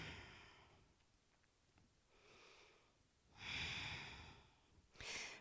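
Slow breaths drawn during a twisting yoga pose, Parivrtta Trikonasana, in a quiet room: a soft inhale and a fuller exhale, then a louder breathy exhale and a final audible breath, close and unaccompanied by talk.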